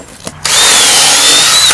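Power drill pre-drilling holes in wooden raised bed garden boards: after a couple of faint clicks, a loud close whine starts and runs steadily to the end, with no talking.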